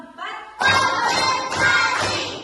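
A class claps in rhythm for a classroom spirit chant, with sharp bursts of clapping mixed with young voices chanting together, loud and close.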